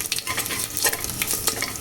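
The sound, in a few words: onions frying in pan for pongal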